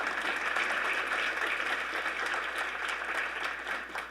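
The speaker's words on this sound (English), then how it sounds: "you should clap for them." An audience at an education convening gives steady, fairly distant applause that carries on at an even level and fades slightly toward the end, with no talking over it.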